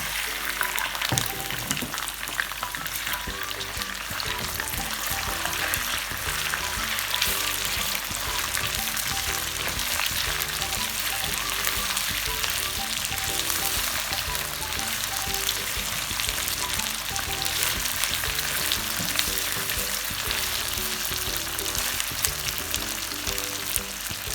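Chicken sizzles and fries in a wok of green karahi masala, with a loud, steady crackle and hiss throughout and occasional stirring.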